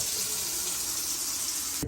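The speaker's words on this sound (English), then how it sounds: "So you want to turn the hot water on." Hot water tap running at a house being readied to drain an old rusty water heater, a steady loud rushing hiss of flowing water without pause.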